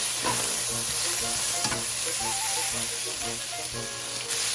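Food being stir-fried in a pan makes a loud, constant sizzle with stirring scrapes, while a faint melodic tone plays in the background.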